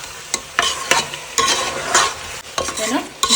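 A pepper dry dish being stir-fried in a pan in a home kitchen, with a sizzling hiss and repeated scraping strokes of the spatula, close and loud, with no voices.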